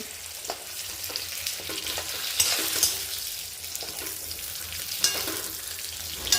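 Green chillies sautéing in a pan over medium heat for stuffed Bharli Mirchi, loud close sizzling with repeated stirring scrapes and small pops spread through the clip, no voices.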